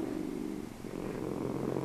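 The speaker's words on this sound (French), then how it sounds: "une sieste apaisante accompagnée du doux ronronnement des chats" Cats purring softly and steadily in a continuous low rumble, close and gentle, with no voices over it.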